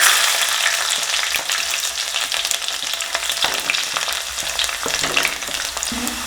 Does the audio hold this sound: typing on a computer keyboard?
no